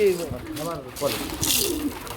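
Soft, low coos of Lahore Shirazi pigeons repeat close by amid a flock's rustling, while a person talks over them.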